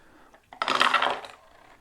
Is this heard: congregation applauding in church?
no